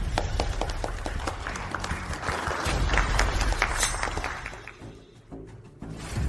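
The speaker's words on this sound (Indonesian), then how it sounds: "mari kita berikan tepuk tangan untuk grup Lin naik ke panggung" Crowd applause welcoming a presentation group onto the stage at a business proposal event: dense, steady clapping from many hands that carries on for several seconds, then thins briefly before picking back up.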